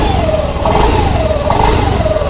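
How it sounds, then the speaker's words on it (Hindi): Honda Activa 6G BS6 scooter from 2020 idling steadily, its engine and exhaust note a continuous close hum with slight rising and falling pitch, heard alone. "इसके बाद इसका जो एग्जॉस्ट नोट है वो भी हम सुन लेते हैं।"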